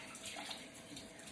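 Hot water runs from a tap into a bathroom sink, a steady soft splashing stream for a moment with no voices.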